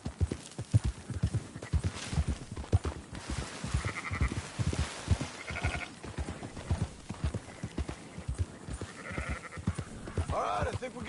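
Sheep bleat now and then in Red Dead Redemption 2 over steady clip-clopping horse hooves. The bleats are moderately close, and no one speaks.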